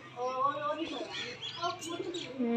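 A pigeon coos softly close by in a few low, rounded calls, with faint chirps and handling noises mixed in.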